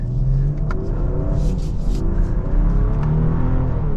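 A steady, loud engine rumble builds as a 2024 BMW X5 sDrive40i SUV accelerates in sport mode, heard from inside with a continuous low drone.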